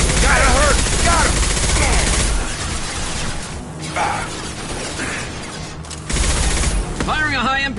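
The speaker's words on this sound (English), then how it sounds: "Firing a high-impact shot." Gunfire from the video game Mass Effect 2 rings out as loud bursts of shots mixed with game effects, while voices talk over the action.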